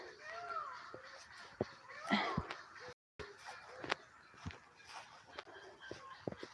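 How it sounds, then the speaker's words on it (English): Several crows caw at a distance at dusk, scattered harsh calls spread across the stretch, with other faint birdsong and outdoor ambience around them. "I think I hear crows."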